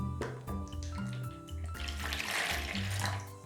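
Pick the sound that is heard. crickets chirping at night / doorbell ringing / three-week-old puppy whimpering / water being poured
water being poured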